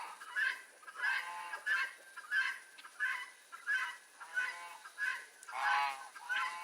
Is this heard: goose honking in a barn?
yes